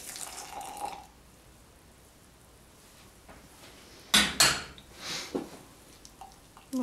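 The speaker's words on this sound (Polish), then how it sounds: "Zalewam to odrobiną wrzącego mleka." A little boiling milk poured from a pot into a mug over instant Nescafe coffee and sugar. A short splashing gush comes up close after a quiet stretch, along with a few light clinks of crockery.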